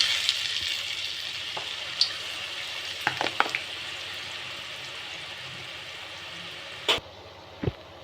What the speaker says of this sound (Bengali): আমি এবার কাঠি ভাজা ভেজে দেবো।